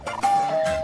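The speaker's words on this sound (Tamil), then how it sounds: "காலிங் பெல் அடிக்குது" A two-tone electronic doorbell chime rings once, clear and fairly close, with faint room noise around it.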